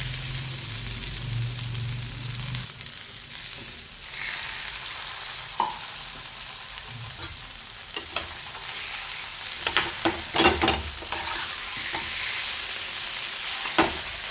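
Potatoes frying in hot oil for potato thecha, a steady close sizzle broken by several sharp spatula clanks and stirring scrapes against the pan, no talk.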